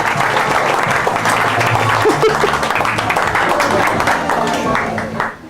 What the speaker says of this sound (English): a big round of applause, Mr. Mike Ostrowski